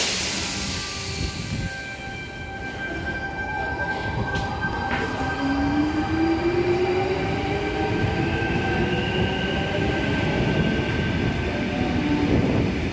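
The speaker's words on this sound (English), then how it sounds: "T19 now departing platform 2 for a Port Kembla service." A train pulls out of a platform at Wollongong station on a windy day, bound for Port Kembla: a loud rumbling rail roar with rising wheel and motor whine and metallic squeals as it departs, no talk.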